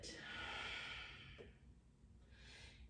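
Steady breathing during a yoga flow: one long, close, airy exhale followed by a softer breath, with no talking over it.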